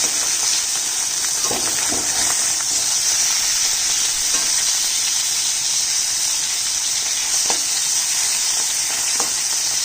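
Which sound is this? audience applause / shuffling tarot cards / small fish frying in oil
small fish frying in oil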